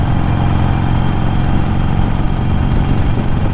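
A Harley-Davidson Iron 883 motorcycle cruises in fifth gear on the highway, its engine giving a loud, continuous low rumble with a steady drone and no talk over it.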